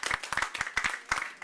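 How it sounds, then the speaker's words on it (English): Conference audience at a COP26 climate innovation pavilion applauding panelists, sparse distinct hand claps in a quick uneven rhythm, fairly close and moderately loud with no talking. "I think we need to give our panelists a round of applause"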